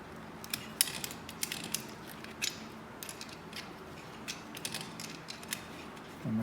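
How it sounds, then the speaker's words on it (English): Small clicks, ticks and light metallic scrapes from loosening the throttle cables on a KTM/Husqvarna 250/300 TPI motorcycle, irregular and close, with a quiet pause in between and no talking. "and you loosen the cables"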